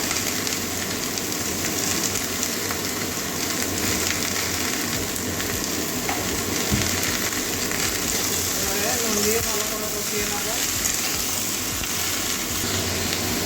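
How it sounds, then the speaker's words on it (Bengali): Hilsa fish head and potato curry is sautéed in a pan, giving a dense, even sizzle like light rain. It stays constant and close throughout, with faint stirring and no voices. "এবারে ভালো করে কষিয়ে নেবো পরিমাণ মতো নুন দিয়ে দেবো"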